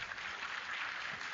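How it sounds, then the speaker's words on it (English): Lecture hall audience at a health and wellness guest talk giving a brief round of applause, an even and fairly faint patter of clapping. "Big round of applause for them"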